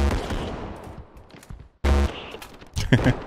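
Bursts of rapid gunfire with sharp reports in Luigi's Mansion 2, fading then erupting again in close, loud volleys, with a faint voice in the background.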